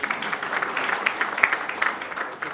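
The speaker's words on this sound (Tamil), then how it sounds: "நல்ல ஒரு கைத்தட்டு கொடுக்கலாம்." An audience at a book launch claps steadily in a dense, even patter of applause, moderately loud and without speech.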